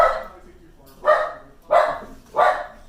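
A dog barks in four sharp, loud bursts spaced about a second apart, close by, with no other sounds between the barks.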